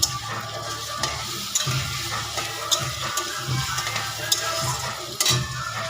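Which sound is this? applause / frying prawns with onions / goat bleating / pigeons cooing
frying prawns with onions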